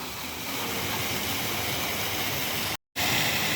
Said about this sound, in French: il y a les petits dragons qui crachent l'eau pour aller directement dans le grand bassin